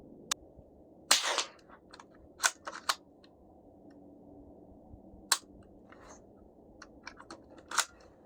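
Rifle shots are fired at a target group on a range: sharp, fairly faint cracks at irregular intervals, four or five shots, with softer clicks between them.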